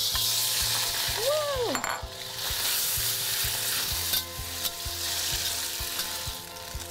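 Marinated beef drops into a hot oiled wok with a loud, steady sizzle, stirred with regular scraping strokes; a short voice exclaims near the start.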